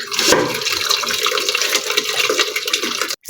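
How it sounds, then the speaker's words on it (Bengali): Curdled milk being strained to separate chhana, a steady close pouring and splashing of liquid that runs continuously and then cuts off abruptly at the end. "এবার আমি দুধ থেকে ছানা আলাদা করে নেব"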